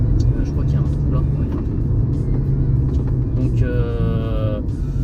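A BMW E90 fitted with MTS Technik Eibach coilovers drives a winding road. A steady, loud cabin rumble of engine and tyres runs throughout, with people talking over it.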